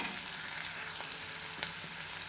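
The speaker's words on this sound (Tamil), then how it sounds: "வெங்காயம் தக்காளி வதங்கிட்டு இருக்கு" Onions and tomatoes sauté in a pan for vegetable kurma, a short, faint, even sizzle with a couple of soft ticks and no voices.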